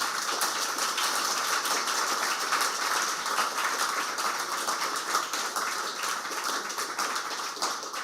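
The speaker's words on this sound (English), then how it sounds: "I want you all to give a big round of applause to all the writers" Sustained applause from an audience at a literary award ceremony, a dense, steady patter of many hands clapping that carries evenly through the whole stretch with no voices over it.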